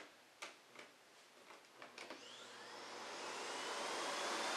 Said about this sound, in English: So I'll leave it in auto mode so you can hear just the vacuum